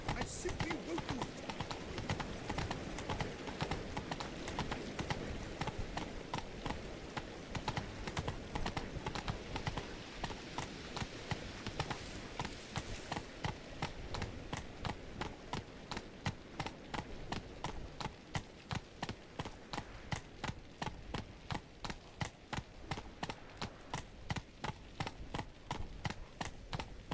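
Hooves clip-clop in a steady, continuous rhythm throughout as the horse Roach is ridden in the video game The Witcher 3: Blood and Wine, loud and close, with speech over parts of it.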